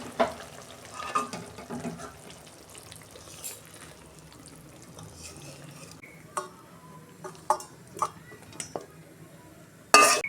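Bhola fish curry tipped from a pan, with scattered metallic clinks of a spoon against the pan and soft sizzling and stirring under a steady kitchen hum, plus a sharp clatter near the end.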